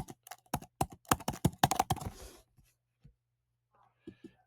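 Rapid clicking keystrokes on a computer keyboard, loud and close, run in quick bursts for about two seconds, then pause before a couple of last isolated taps.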